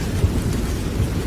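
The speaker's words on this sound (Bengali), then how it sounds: "বৃষ্টি থামার তো নাম গন্ধই নেই রে।" Heavy rain with low rumbling thunder outdoors at night, a dense continuous roar of rainfall and deep rolling booms, loud and close with no voices.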